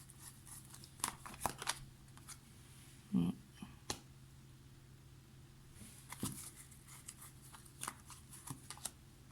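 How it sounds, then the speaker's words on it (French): Tarot cards are handled and laid down on a table, quiet scattered soft slaps, flicks and shuffling taps spread irregularly through the near-silence. "Je vais recouvrir ici les 2 cartes pour voir."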